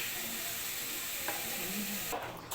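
Tempering sizzling as it hits a clay-pot chicken curry, a steady hissing fry with stirring clatter and a sharper burst of spitting near the end.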